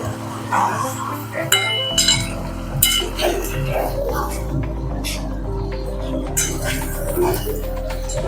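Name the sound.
transferring fried chicken into a metal pot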